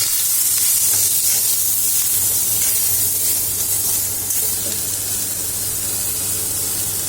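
Beetroot pachadi, a Kerala dish, being stirred as it fries in a pan, giving a steady loud hiss and sizzle throughout with a low constant hum beneath.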